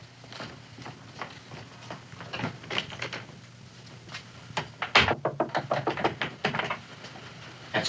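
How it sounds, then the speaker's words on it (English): Knocking on a door in an evening frontier home, a run of sharp wooden raps and taps, some in quick clusters, with a louder thud midway, heard close and without talk. "Answer the door, Sally."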